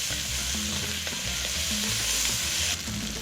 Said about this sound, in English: now we add our spoonful of tomato paste before adding our tomatoes because I want this tomato paste to cook a little bit.